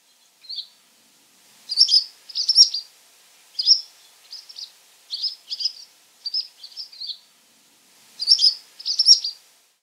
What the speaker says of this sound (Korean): 이렇게 날아다니면서 플라이콜이라고 하는 짹짹짹짹짹 하는 그런 작은 소리들이 있습니다.